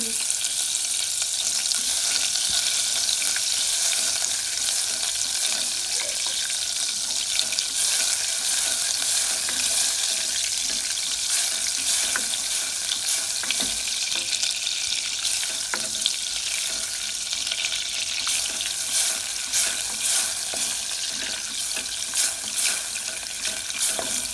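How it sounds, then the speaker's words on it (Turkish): Fat melting and sizzling in a pan as the base for a béchamel sauce, a steady dense hiss that runs unbroken and close throughout, with faint clinks and no talking. "beşamel sosumuzu yapalım. Yağımızı eritelim."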